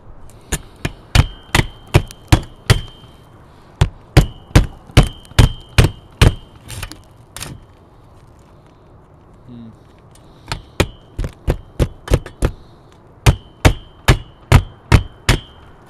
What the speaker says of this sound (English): hit it down with a hammer to bend that bracket a bit to match the roof slope